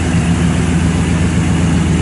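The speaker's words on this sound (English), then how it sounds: "It's got a dual exhaust." A 1955 Chevrolet Bel Air engine idles through dual exhaust with stock mufflers, a steady, low rumbling burble, loud and close, with no voices over it.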